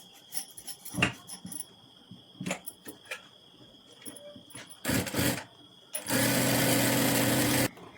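A sewing machine stitches a princess-cut blouse, with scattered clicks and handling noises before a steady, loud run of stitching near the end.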